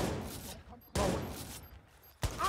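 A silenced rifle in Watch Dogs fires in short bursts: three quick clusters of muffled shots with quiet gaps between them, moderately loud and close.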